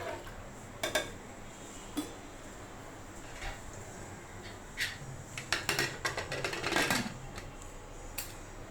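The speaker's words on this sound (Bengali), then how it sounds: "এখন খুব ভালোভাবে নেড়ে চেড়ে আমি ঢাকনা আটকে দেব।" Ilish pulao being stirred in a pressure cooker, a spoon scraping and clinking against the metal pot in scattered close knocks, followed by a run of rattling clatters as the lid is fitted and locked, with no talking.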